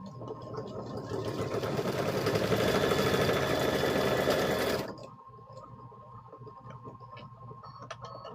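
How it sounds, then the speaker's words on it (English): Sewing machine back stitching vinyl for a quilted handbag, a close, loud, fast whirring burst of about four seconds that stops abruptly, followed by quiet handling sounds. "I'm going to back stitch this. That way that corner doesn't come out."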